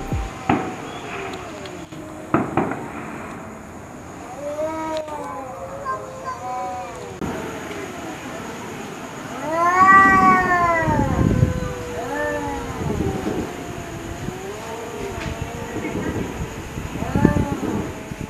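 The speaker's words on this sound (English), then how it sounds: "And just look at these cats that seem to be arguing or talking about something." Several cats trade meows and drawn-out caterwauls back and forth, close and fairly loud, with rising and falling wails that peak in the middle and more yowls near the end.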